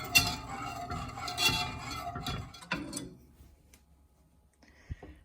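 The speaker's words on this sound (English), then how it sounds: "Just keep on whisking until it starts to boil." Honey garlic sauce whisked in a pan, rapid rattling, clicking strokes for about three seconds, then near quiet broken by a couple of faint taps.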